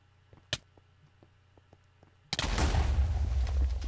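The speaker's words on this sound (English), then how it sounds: "When a player is a creeper and they die, there will be an explosion." A Minecraft creeper dies and explodes with a sudden loud blast, then a sustained rumbling roar that runs to the end, after a quiet stretch of faint game ticks and one sharp click.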